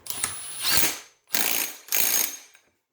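A worn 30 millimeter socket on a ratchet clicks in three quick rattling bursts, close and loud, while tightening the clutch nut on a Raptor clutch and basket assembly with a lockup mechanism.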